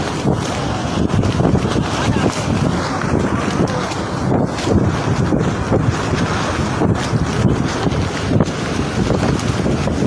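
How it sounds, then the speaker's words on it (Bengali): Strong cyclone winds of Cyclone Remal batter the coast at Cox's Bazar, a loud continuous roar and buffeting across the microphone with surf-like rushing underneath, steady throughout with no clear voices. "পতাকার বাতাস কীরকম সে গাছ দেখতে পারেন গাছ গাছের শব্দ বা গাছ দেখতে পারেন কী বাতাস প্রচণ্ড ভালো উঠছে"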